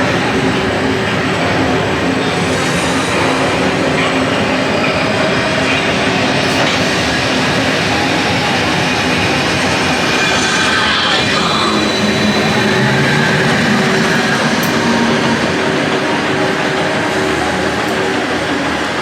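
Continuous loud roaring rumble of the Icon roller coaster ride at Blackpool Pleasure Beach, with wind and rattling track noise throughout and no clear speech.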